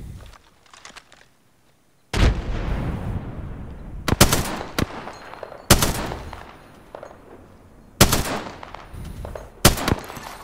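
Gunfire in the Apex Legends video game, loud bursts of rapid automatic shots with sharp single cracks between them, separated by brief pauses and a quiet stretch near the start.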